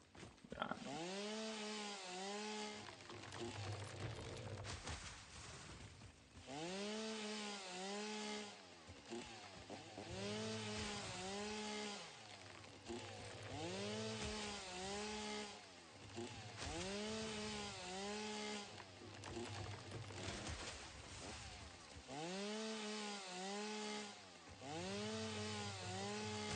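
A Satisfactory chainsaw cuts through wood in repeated revving bursts, the motor pitch rising and dipping with each cut, loud and close with brief pauses between passes.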